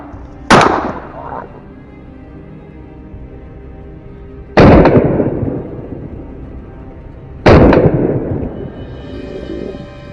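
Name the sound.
gunshot fired at a wild boar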